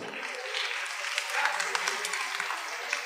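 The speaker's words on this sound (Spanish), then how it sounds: "un aplauso a los compañeros" Applause for classmates at a secondary-school worship service for Bible Month: a crowd claps in a dense, steady patter for about three seconds, heard from a moderate distance.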